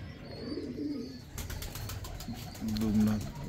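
A golden pair of pigeons coos softly in low, brief calls, with someone talking over and between them.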